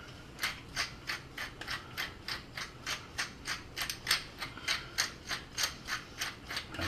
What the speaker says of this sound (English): And then grind some pepper.